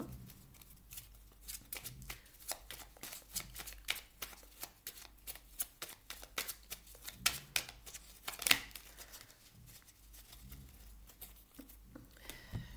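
Tarot cards shuffled for a Pisces reading: a steady run of crisp riffling and flicking card sounds, close and fairly quiet, continuing throughout with no talking.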